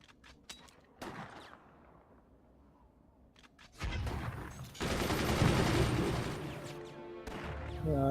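Weapons and mortars fire in the video game Forts: scattered sharp shots at first, then a dense, loud barrage of overlapping blasts and booms that keeps rolling on.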